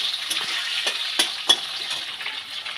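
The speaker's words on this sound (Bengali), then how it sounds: "রাখা চিংড়ি মাছ দিয়ে দিলাম তেলের ওপরে। সব জিনিসগুলো আমি একসাথে ভেজে নিচ্ছি।" Shrimp frying in hot oil with other ingredients for a Bengali chalkumro ghonto: a bright, close sizzle with a few sharp crackles and spatula knocks against the pan, no talking.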